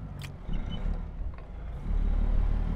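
An FLX 359 truck hauling a Ruda lowboy trailer in American Truck Simulator drives on with a low, steady engine rumble that swells louder toward the end, with a faint high chirp early on and no talk.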